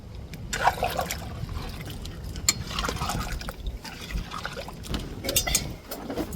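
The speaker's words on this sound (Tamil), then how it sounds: "தேவையான அளவு தண்ணி சேர்த்துக்கிடுவோம்." Water pours and trickles steadily into a cooking pot of curry with ground coconut, a soft continuous splashing with faint dribbles, fairly close and moderately quiet.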